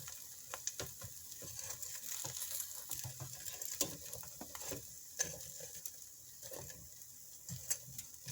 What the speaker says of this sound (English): So now it's time to turn the wings. So I just flip them like this.